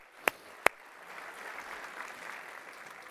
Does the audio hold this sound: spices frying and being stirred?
no